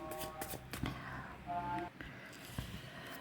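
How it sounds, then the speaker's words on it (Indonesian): Tarot cards riffle and slap in quick, soft bursts, with faint tonal sounds and background noise under the shuffling. "saya kocok kartunya"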